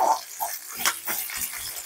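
Curry leaves, asafoetida and dried red chillies tempering in hot oil for a pumpkin dappalam, giving a soft sizzle with a few brief crackles and bursts, close and fairly quiet.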